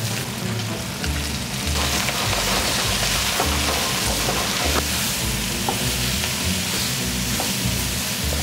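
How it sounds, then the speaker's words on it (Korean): Vegetables stir-frying in hot oil with garlic for a spicy restaurant-style jjamppong, a loud, dense, continuous crackling sizzle with rapid tossing and clattering in the wok, close up and without speech. "야채를 넣어서 볶으시면 돼요"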